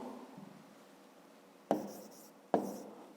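A pen or pencil scratches across paper as a math exercise is written out by hand: a soft, faint rubbing stroke, then two sharper taps about a second apart, quiet and close.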